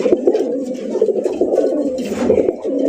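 Village house pigeons coo in close, repeated rolling calls, several birds overlapping in a steady stream with a few faint background noises.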